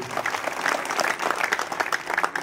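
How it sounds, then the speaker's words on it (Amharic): A church congregation claps together in a dense, continuous burst of applause, loud and close with no talking over it. "አንሱ ጭብጨባችሁን ለጌታ"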